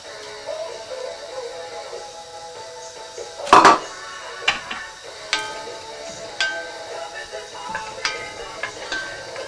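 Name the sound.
onions and peppers added to a pan sprayed with Fry Light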